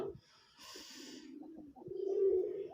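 A red-headed white Raj Golla pigeon coos softly nearby in low, throaty rolls, rising into a fuller coo toward the end.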